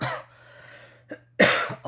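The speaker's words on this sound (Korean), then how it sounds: "기침도 안 나왔는데 갑자기, 막 기침이 막 나오네" A cough bursts out near the end of a lecture after a quiet stretch with a low steady hum, preceded by a softer earlier rasp.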